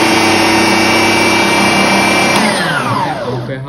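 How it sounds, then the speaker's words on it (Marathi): A Ronald food processor motor whirs loud and steady close by, holding a constant high whine before it winds down and fades toward the end. "झाकण बसल्याशिवाय हे मशीन चालू होत नाही"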